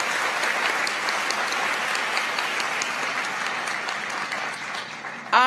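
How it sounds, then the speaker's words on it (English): A university investiture audience applauds President Susan Cole, with sustained, even clapping from a large hall crowd that runs steadily before a sharp sound cuts in at the very end. "this amazing woman who deserves a round of applause"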